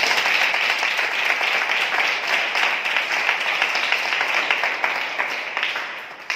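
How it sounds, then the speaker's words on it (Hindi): A congregation at a spiritual assembly claps loudly and steadily, a dense continuous wash of many hands that holds its level throughout with no speech on top. "हम जोरदार तालियों से उनका स्वागत करें।"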